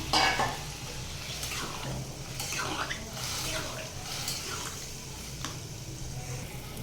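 Vegetable curry is stirred in a pan, a steady bubbling sizzle with soft scraping strokes throughout, and a voice talks over it.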